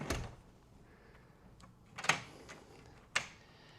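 A heavy door swings shut with a firm thud, followed by two sharp clicks of a latch or lock, closing off a room at a cultural and creative park in Taipei; the sounds are close, with a quiet room tone between them.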